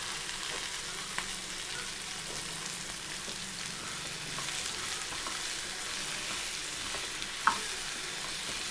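Pumpkin stir-fry cooking in oil sizzles steadily while salt and turmeric are stirred in, a close, continuous frying hiss punctuated by a few sharp spoon taps against the pan, with no talking.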